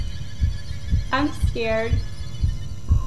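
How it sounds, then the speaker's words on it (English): Low, steady heartbeat throbs from the horror video game Inside the Backrooms pulse repeatedly about every half second under a droning hum, with a person speaking over it. "I'm trying to follow my heartbeat."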